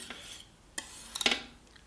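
A thick wood-ash cleaning paste is stirred in a pot over low heat, giving a few faint scrapes early on and then a louder cluster of clinks and scraping strokes midway, with no talk.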